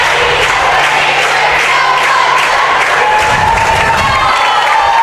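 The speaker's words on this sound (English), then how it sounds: "Both cheer squads firing up their teams" Cheer squads rouse the fans at a high school basketball game while the crowd applauds and cheers, a loud, dense wash of clapping and voices filling the gym throughout.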